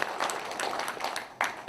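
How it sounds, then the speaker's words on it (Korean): Audience applause at a lawmaker's 2023 public policy report meeting in Korea, a short burst of steady clapping from a seated crowd that swells again near the end. "박수 한번 쳐주세요."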